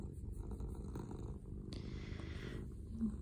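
A cat purrs softly and steadily while curled on a lap, a close, continuous rumbling purr that stays low and even the whole time.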